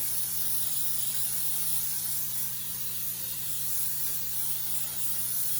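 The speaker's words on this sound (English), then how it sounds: "But you wanna spray your pan very well." A steady, continuous spray of baking spray hissing close by for several seconds as it coats a bundt pan, with a low background hum underneath and no talking.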